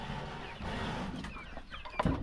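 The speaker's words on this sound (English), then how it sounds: "let me check my chickens" Chickens on a farm cluck softly at a moderate distance amid faint outdoor background noise, with a sharper, louder squawk near the end.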